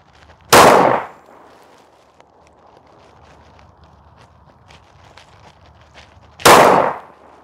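Two sharp, loud handgun shots fired with low cost self defense ammo at a 5-yard target, spaced about six seconds apart, each a crisp near crack with quick decay over a quiet range background.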